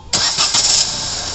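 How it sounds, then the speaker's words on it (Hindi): A Maruti Suzuki WagonR, fresh from a head gasket change, cranks briefly and fires up, its engine catching with a sharp burst and a few revving surges before settling into a steady idle, close by. "गाड़ी स्टार्ट करके दिखाता हूँ"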